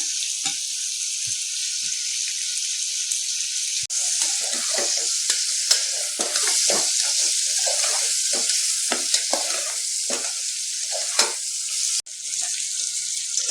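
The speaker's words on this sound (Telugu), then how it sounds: "కొంచెం గ్యాస్ మీడియంలో పెట్టుకొని ఆనియన్ ఫ్రై చేస్తాను." Onions frying in a pan over medium gas heat, a continuous bright sizzle with scraping stirring strokes and occasional clatter of the utensil, close and unaccompanied by talk.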